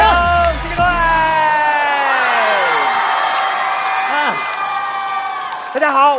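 Cheering and whooping from a studio audience at a Chinese stand-up comedy show fill the whole stretch, loud and sustained, with musical tones running underneath.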